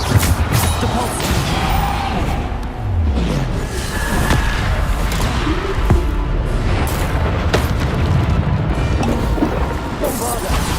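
Bombarda explosion spells blasting during Hogwarts Legacy combat: repeated heavy booms and crashes packed into a dense, continuous battle din, with a voice shouting over the fighting.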